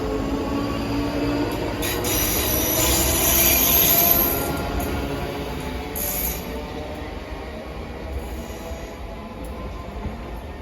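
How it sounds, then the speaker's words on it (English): A ScotRail 334 unit pulls out of Haymarket station on the Edinburgh Waverley to Helensburgh Central service. Low rumble sits under high wheel squeals that flare early, then fade as the train moves off. "Departing out now is the 15:45 ScotRail service from Edinburgh Waverley to Helensburgh Central"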